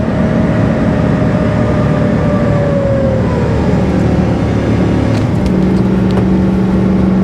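A 2002 work truck's engine drones steadily at close range, its pitch gradually climbing as it gains speed, with road rumble underneath throughout.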